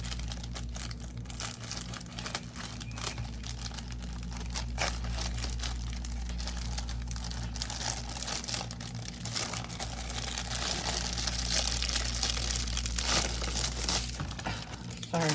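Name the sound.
crinkling plastic packaging of silicone molds being cut open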